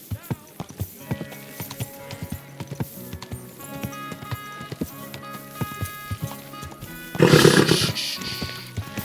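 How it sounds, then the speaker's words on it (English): Horse hooves clip-clopping in the video game Kingdom Come: Deliverance II, a steady rhythmic patter of hoofbeats over game ambience, ending with a brief louder burst of noise. "Easy, good horse."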